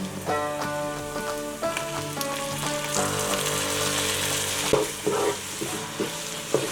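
Finely chopped tomatoes hit a hot pan of garlic paste for a chicken biryani base, a steady loud sizzle and crackle under stirring, with musical tones running throughout.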